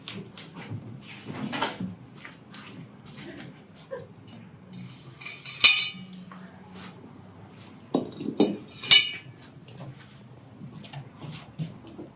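A Dutch oven of cranberry sauce being handled with hot pads, scattered clanks and a couple of sharp metallic clinks of the lid and pot amid soft shuffling, close, with quiet gaps between, no talk.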